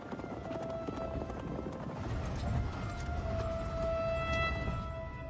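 Horses' hooves clip-clop on a journey east with vehicles, steady and mid-distance under a busy background of engine rumble and a faint high tonal whine.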